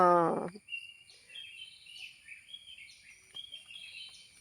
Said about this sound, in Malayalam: കിളികൾ വന്നു തുടങ്ങി